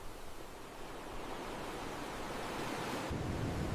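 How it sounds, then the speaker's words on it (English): Ocean waves surge on a wide, white-sand Bali beach, a steady hiss of surf with some wind that builds louder toward the end, with a deeper swell arriving near the close. "The waves are getting bigger and bigger now."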